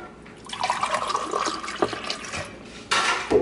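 Water splashes and trickles into a cup, a steady close pour with a few louder gushes and drips, no talk over it.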